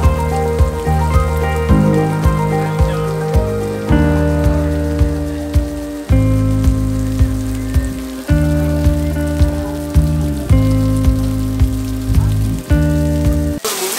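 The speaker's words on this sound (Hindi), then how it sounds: "बारिश रुकने का नाम ही नहीं ले रही है" Steady rain keeps falling through the early morning, a constant broadband patter that runs the whole stretch beneath a louder layer of sustained musical chords shifting every couple of seconds.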